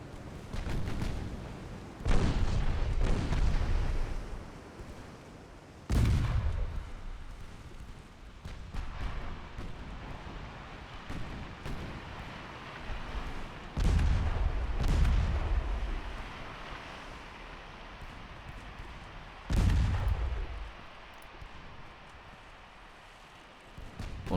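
Heavy naval guns boom in Ultimate Admiral Dreadnoughts, set in a 1908 French campaign. Several loud, deep salvos land a few seconds apart, each followed by a rumbling tail, with lighter shots scattered between them.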